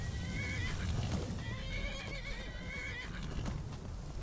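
In Skyrim, several horses whinny in long, wavering cries over a dense, rumbling game soundscape, with hoofbeats clopping beneath them throughout.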